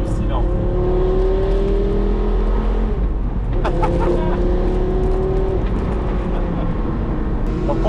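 A Porsche Carrera GT engine roars while driving, its strong whining note rising and easing through revs with a brief lift-off midway, loud and close throughout.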